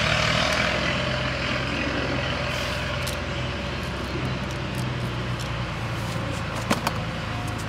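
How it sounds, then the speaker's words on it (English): A tractor drones in the background, a constant low engine rumble running steadily underneath with some faint higher-pitched clicks and clatter near the end. "There's a fucking tractor in the fucking background,"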